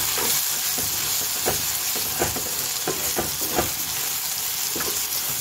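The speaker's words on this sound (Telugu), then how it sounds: "ఇప్పుడు నాకు వెజ్జీస్ అంతా బాయిల్ అయిపోయింది, ఆయిల్లో ఫ్రై అయ్యి." Vegetables frying in oil for pasta and being stirred, a loud, continuous sizzle with repeated scraping strokes of a utensil against the pan.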